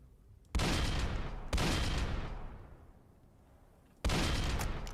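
Gunfire at enemies in the Roblox game Dead Rails comes as three loud bursts of rapid, dense shots, each sharp onset decaying over about a second, with no talk.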